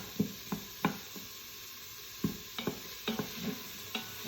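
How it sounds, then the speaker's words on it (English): Onions being sauteed in a pan and stirred with a wooden spoon: soft sizzling underneath scattered knocks and scrapes of the spoon, irregular and close, with no talking. "Take my wooden spoon and saute these onions"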